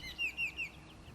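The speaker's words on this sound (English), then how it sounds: "There is a group of orioles feeding on berries among the treetops on the perimeter of the pond." Baltimore orioles high in the treetops around a pond give three short descending whistled calls in quick succession, moderately faint over a low background hum.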